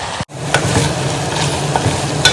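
Chicken cooks in a pan with onion and tomato, giving a steady, loud sizzle of frying that fills the clip, with stirring scrapes breaking through now and then and no talking.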